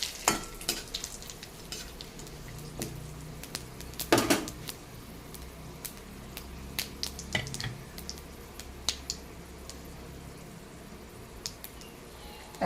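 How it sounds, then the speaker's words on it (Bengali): Bay leaves, cloves, cardamom and cumin sizzle softly in hot oil, broken by sharp clinks and scrapes of a utensil against the pan and a louder clatter near the middle. "এবার ফোড়নে আমি দিয়ে দিচ্ছি 2টো তেজপাতা, 2টো লবঙ্গ, 2টো এলাচ আর একটুখানি জিরা"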